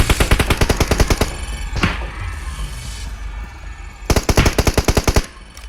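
Automatic gunfire in PUBG Mobile: two loud, rapid bursts of shots, one at the start and one near the end, separated by a quieter stretch with a single shot and game ambience.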